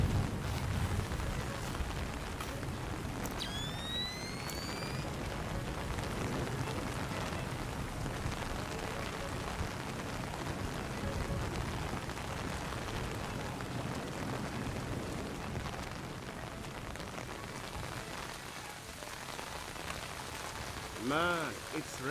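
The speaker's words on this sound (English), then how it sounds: "Man, it's really raining." Steady rain hisses throughout a stealth scene in the PC game Splinter Cell Chaos Theory, a continuous wash of falling drops with brief tonal game sounds and voices talking over it.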